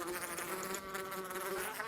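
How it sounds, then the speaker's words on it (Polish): A bee in the video game Minecraft buzzes with a steady, faint droning hum for about two seconds, with no talk over it. "patrzcie sobie pszczołę"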